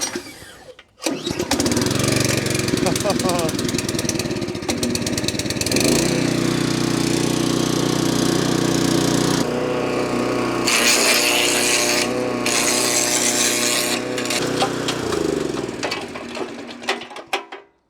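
A petrol wood chipper's engine cranks and catches, then runs loud and steady with mechanical clatter and shifts in pitch. It carries on to the end, when it winds down.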